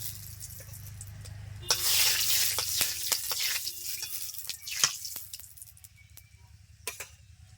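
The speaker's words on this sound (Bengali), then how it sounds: "তেল গরম হয়ে গেছে দিয়ে দিচ্ছি দুটো শুকনো লঙ্কা আর দুটো তেজপাতা" Dried red chillies and bay leaves hit hot oil in a pan and sizzle sharply, with a sudden burst of crackling that fades into quieter spitting and a few utensil taps, no talking.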